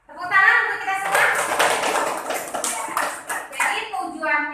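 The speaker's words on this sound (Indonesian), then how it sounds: "Tepuk tangan untuk kita semua." A classroom of students applauding together in an Indonesian religious education lesson, a dense steady patter of many hands clapping close by, mixed with the teacher's voice speaking over it.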